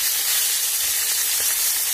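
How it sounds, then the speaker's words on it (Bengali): Fresh rohu fish fries in hot oil in a wok, producing a loud, close, steady hissing sizzle with no talking. "তো মাছগুলো দেখুন ভেজে নিচ্ছে আগে"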